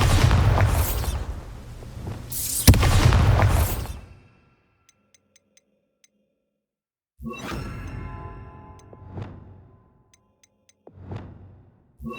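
Bombarda spell blasts in Hogwarts Legacy, a couple of loud booming bursts up front, then silence, then further fainter explosive whooshes trailing off.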